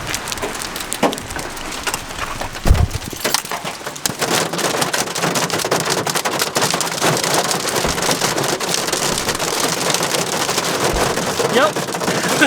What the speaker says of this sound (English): I think it was the hail core that I heard coming.